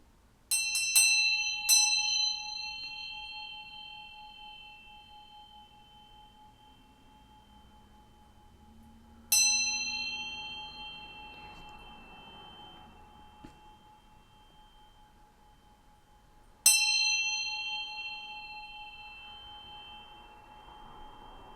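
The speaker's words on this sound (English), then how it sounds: "I'm going to ring this bell to bring some good vibes" A hand bell is struck three times at slow, even intervals, each bright metallic ring sounding close and clear before decaying over several seconds, with no voices.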